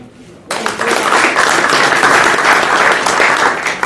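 A crowd at a Brissac versus La Charité sports event bursts into applause after a brief quiet moment, sustained and loud for a few seconds.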